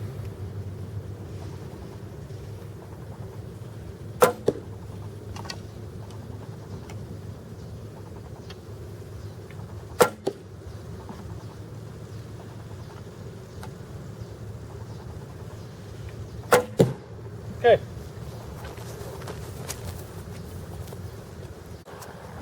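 Arrows loosed from a vintage Bear Kodiak Magnum recurve bow strike a deer target at a 20-yard outdoor range, three sharp distinct snaps spaced several seconds apart over a low steady wind and background rumble.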